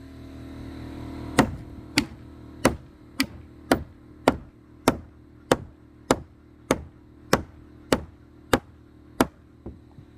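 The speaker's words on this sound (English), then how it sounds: "That's why I have to come back here with the hammer, make sure that all the nails" Sharp, evenly spaced hammer blows seat nails into timber gambrel shed trusses, about fifteen crisp strikes roughly every two-thirds of a second, close and loud over a faint background hum.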